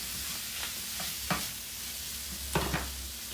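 Food sizzles in a hot pan while being stirred and kept moving to caramelize, a steady bright frying hiss with a low hum beneath and a few soft scraping clicks from the utensil.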